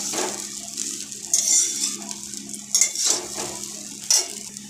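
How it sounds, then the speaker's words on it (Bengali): A spoon scrapes and knocks against a pan while meat masala is stirred into chira polao made with flattened rice, giving a few distinct metallic clinks and scrapes over soft shuffling, nearby and alone. "মিট মশলাটাকে আমি ভালো করে মিশিয়ে নেব।"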